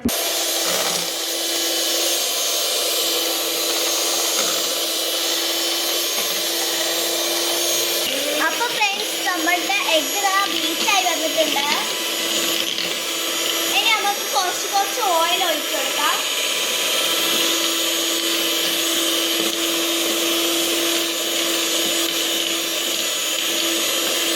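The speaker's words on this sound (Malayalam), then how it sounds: "ഇനി നമുക്ക് കുറച്ച് കുറച്ച് പഞ്ചസാര ഇട്ടിട്ട് പിന്നെ നമുക്ക് ബീറ്റ് ചെയ്ത് കൊടുക്കണം" An electric mixer beats eggs with sugar for a carrot and dates cake, making a loud, steady whine that runs the whole time while someone talks over it in the middle.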